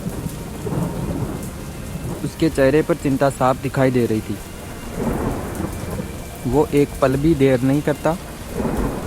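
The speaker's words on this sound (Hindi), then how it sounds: "बारिश की बूंदें गिर रही" Heavy rain with thunder over a farm field of ripe, ready crops: a steady broadband downpour with low rumbling runs throughout, partly masked by someone narrating in Hindi.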